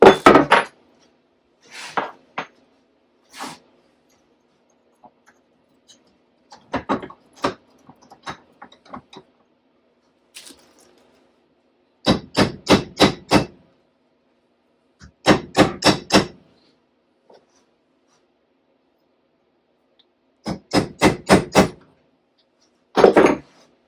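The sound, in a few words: removing old rivet from Lotus Esprit moon roof runner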